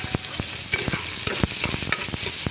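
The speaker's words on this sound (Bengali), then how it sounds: "এখন আমি রসুন ভর্তার যে পেঁয়াজটা সেটাকে ভেজে নেবো" Onion for a garlic bhorta (mash) sizzles steadily in a frying pan, with repeated sharp scrapes and clacks of stirring cutting through the constant hiss; no voices.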